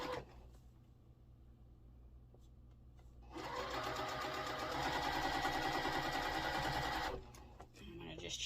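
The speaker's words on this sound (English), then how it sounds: "I'm going to just chain piece these through" A sewing machine chain-pieces quilt block pieces for a sailboat block, running in one steady, buzzing burst of about four seconds in a quiet room, with soft activity before and after.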